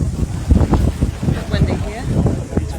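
Gusty wind blows across the microphone outdoors at a parliament occupation camp, rumbling and buffeting in uneven bursts under ongoing talk from a nearby speaker.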